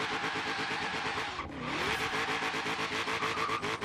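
A Ford Mustang GT350R drag build in Forza Horizon 3 revs hard and accelerates, a loud close engine climbing in pitch through rapid gear changes with a brief dip near the middle.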